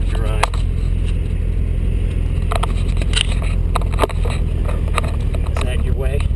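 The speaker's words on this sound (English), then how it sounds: "Corvette again here for the drive." A 2012 Corvette Grand Sport driving on a track, a loud, steady low engine drone with road rumble heard from inside the car, with people talking over it and occasional clicks and knocks.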